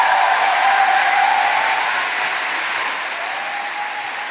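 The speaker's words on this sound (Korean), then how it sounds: "다시 한번 큰 박수로 환영해 주시기 바랍니다." Dense, continuous audience applause at a Korean political rally greets presidential candidate Ahn Cheol-soo coming onto the stage. It holds loud and steady and then eases slightly, with no voices over it.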